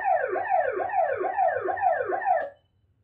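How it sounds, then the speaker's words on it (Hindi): An ambulance siren wails in loud, repeating rising-and-falling sweeps, about six cycles close by, then cuts off abruptly, leaving near silence. "एम्बुलेंस एक कांस्टेंट फ्रीक्वेंसी का साउंड भेजती है"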